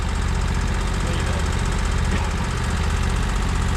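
A lawn mower engine runs steadily while mowing wooded trails, a close, constant mid-pitched putter with a regular throbbing pulse and no speech.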